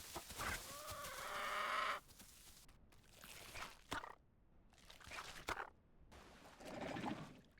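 A chicken in the dinosaur survival game The Isle Evrima clucks in several short bursts separated by brief pauses, fairly clear against quiet game ambience.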